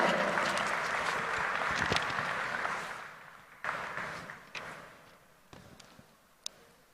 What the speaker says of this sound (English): Dr. K. Ravindranath Garu, with a huge round of applause, ladies and gentlemen.